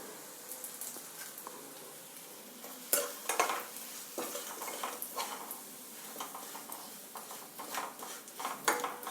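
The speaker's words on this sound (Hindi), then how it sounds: "और 150 ग्राम गुड़ डालकर इसको हिलाएंगे।" Jaggery (gud) stirred in a pan while making sweet peanuts, soft scraping and clinks of a spoon against the pan over a faint sizzle, irregular and close, with no talking.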